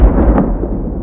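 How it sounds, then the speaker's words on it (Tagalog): Low, rumbling thunder from a natural storm, a deep sustained roll throughout the short clip with a slight swell near the middle, no voices. "Tama, ito ay tunog ng kulog."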